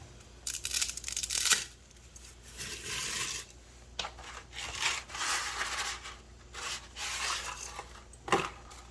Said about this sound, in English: And then I do break my noodles.